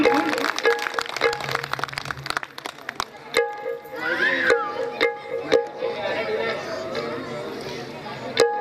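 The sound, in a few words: audience applause for a singer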